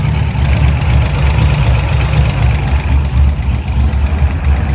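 A car engine with roller rockers and a slightly loose belt idles steadily while warming up, a loud, close, even rumble with a faint ticking texture and no voices.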